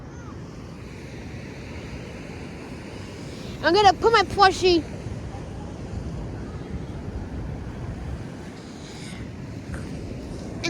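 Ocean surf washes steadily onto a shore with wind buffeting the microphone, a continuous broad rush throughout, briefly overlaid by a voice speaking near the middle.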